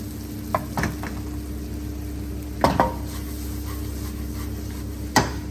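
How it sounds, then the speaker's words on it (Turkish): Onion and rice being stir-fried in butter in a pan for tomato rice pilaf, a steady close sizzle with a few sharp scraping clinks of a utensil against the pot. "Evet böyle bir tereyağla soğan kokusu geldi burnuma çeviriyoruz"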